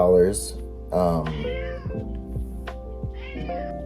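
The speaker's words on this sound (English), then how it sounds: "Say hi to the kitty." A cat meows several times in a row, loud and close, the calls rising and falling with short pauses between them.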